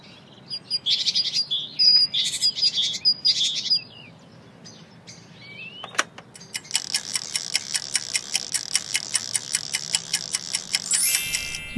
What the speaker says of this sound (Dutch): De koolmees.